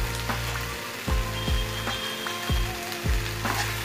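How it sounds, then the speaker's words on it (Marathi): Spring onion greens tumble into soybean chilli frying in a restaurant-style pan, giving a steady close sizzle broken by several sharp stirring knocks at a regular pace. "आणि आता आपण त्यामध्ये फायनली ही कांद्याची पात टाकून घेणार आहोत."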